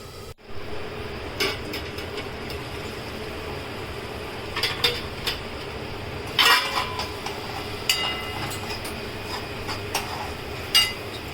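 A lid set on a cooking pan of fresh cashew usal with onion and tomato: a few light metallic clinks and taps, fairly faint, in a quiet kitchen with no talk.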